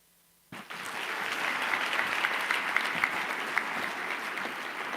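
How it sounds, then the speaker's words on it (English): Applause starts suddenly and continues steadily, a large crowd clapping together at moderate volume without a break, at a student awards ceremony. "Let's give another round of applause to all our brilliant students."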